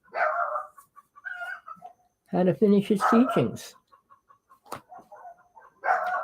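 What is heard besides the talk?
neighborhood dogs barking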